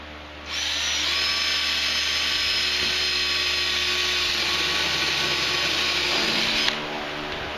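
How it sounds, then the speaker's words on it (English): A power drill boring 3/16-inch rivet holes, running as one steady high whine for about six seconds before stopping, loud and close, with no speech. "Then go ahead and drill out 3/16 holes."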